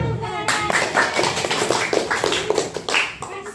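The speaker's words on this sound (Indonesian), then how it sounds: "Oke, tepuk tangannya mana tepuk tangannya" Children clap together during an anti-bullying session, a close, lively burst of many quick, overlapping hand claps that continues steadily throughout.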